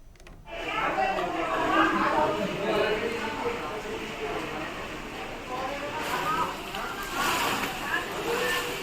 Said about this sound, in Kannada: ಓಡಾಡೋಕ್ಕಾಗಲ್ಲ ಅಷ್ಟು ನೀರು ಕೆ ಇ ಎಮ್ ಆಸ್ಪತ್ರೆ ಇಲ್ಲಿ ತುಂಬಿಕೊಂಡಿದೆ